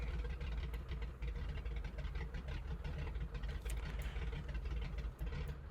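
A Grumman JRF-6B Goose radial engine idling in MSFS 2020, a continuous low, throbbing rumble with a rough, knocking texture that holds steady and close for several seconds without any voices.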